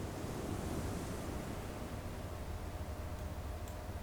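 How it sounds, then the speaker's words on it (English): Ocean surf plays as a continuous, even wash of rushing noise with no distinct breaks, steady and fairly soft, serving as ambience during a Changeling: The Lost tabletop roleplaying session. "Is that waves?"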